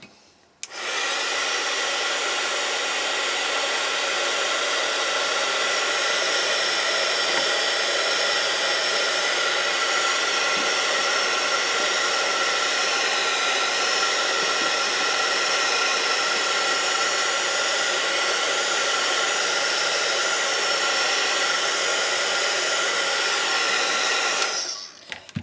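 A heat tool blowing to dry wet paint, a loud, steady close whoosh and whine that starts abruptly, holds constant for about twenty-five seconds, then cuts off.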